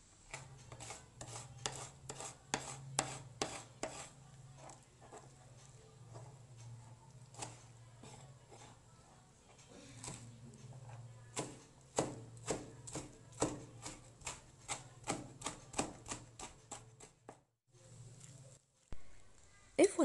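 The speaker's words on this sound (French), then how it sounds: "Pour le poivron vert, je l'avais laissé griller quelques instants sur le feu, puis je l'avais nettoyé, maintenant je le coupe en petits cubes." A knife cutting grilled green bell pepper into small cubes, heard as many sharp, regular taps on a cutting board, some in quick runs and some spaced out, close and fairly faint, with a brief pause near the end.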